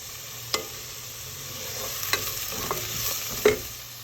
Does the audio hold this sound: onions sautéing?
yes